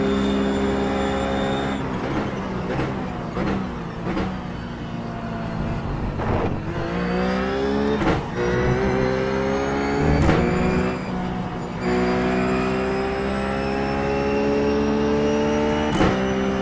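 A Ruf race car laps Interlagos in the iRacing sim, its engine droning steadily and loudly, with the pitch climbing through each gear and dropping sharply at repeated upshifts and lifts.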